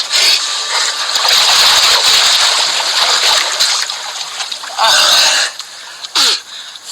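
A loud, close splash and churning water as a person takes a dip in a stagnant water hole, with a few sharp bursts and gasps near the end.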